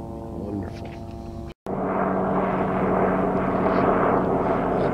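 Loud, continuous rotor-and-engine roar of a helicopter nearby, a steady droning rumble that briefly cuts out and then resumes stronger.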